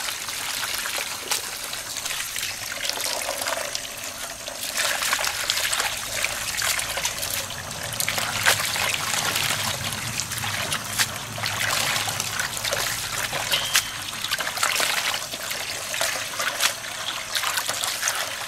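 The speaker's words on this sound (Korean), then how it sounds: "다시 깨끗이 씻어줍니다." Salted young napa cabbage being rinsed clean under running water for kimchi, a steady splashing trickle of moderate loudness that continues for the whole stretch with no talking.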